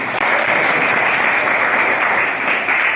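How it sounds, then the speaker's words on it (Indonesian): Classroom applause from students during a school teaching session in Indonesia, a dense, steady burst of many hands clapping close by for about three seconds with no voices on top. "Tepuk tangan untuk kita semua."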